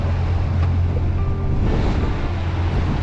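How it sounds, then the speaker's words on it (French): Loud, continuous rush of ocean water and wind noise aboard a sailboat off the Vendée coast, France, a broad steady roar with low rumbling, heard from close by. "Le vent qui souffle, les voiles qui claquent, les vagues qui dansent, l'océan nous appelle."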